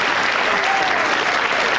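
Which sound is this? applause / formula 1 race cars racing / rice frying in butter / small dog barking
applause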